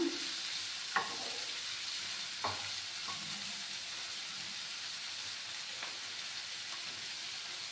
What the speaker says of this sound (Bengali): সবজিগুলোকে আমি 1 মিনিটের মতো ফ্রাই করে নেব।